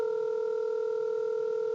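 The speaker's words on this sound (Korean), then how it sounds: "현재 미국 고객센터로 전화를 걸고 있는 상황입니다." A steady phone line tone from a TextNow call to Korean Air's US customer center, a continuous electronic hum held evenly throughout.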